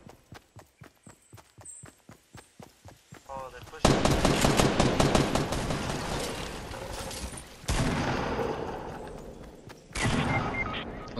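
Gunfire in Fortnite: a run of evenly spaced single shots gives way to loud, dense automatic bursts that stop and restart several times, close and prominent.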